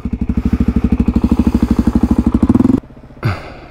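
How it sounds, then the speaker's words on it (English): KLR650 dual-sport motorcycle on semi-slick tyres riding off-road over slippery ground, engine loud and close with rapid pulsing thumps, revving then cutting out abruptly before a short final burst. "So Riley's committing with the KLR with his semi-slicks"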